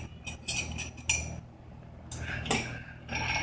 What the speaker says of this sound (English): it gets a stir